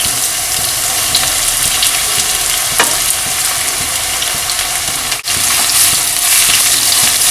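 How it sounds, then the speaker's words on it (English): Finely sliced onions fry in hot desi ghee in a wok, giving a steady, loud, close sizzle with occasional stirring scrapes and pops. "Now we will add 2 large finely sliced onions."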